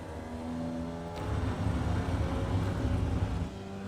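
Formula Vee race car in iRacing at Rudskogen, engine held at full throttle, a steady loud buzzing drone that rises in pitch and intensity partway through as the car powers out of the apex, with no voices.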